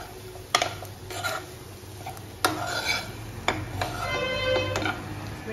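Sesame seeds and potatoes being stirred in a pan, with several scraping clinks of a spoon against metal over a soft background sizzle, close by, with faint talking underneath.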